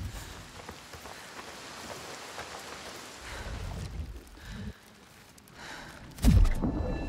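Steady rain hisses down in a video game world, a soft continuous wash with a low rumble and a brief gust or breath near the end.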